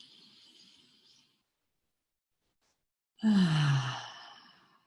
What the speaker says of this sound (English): And take a breath, nice big breath in.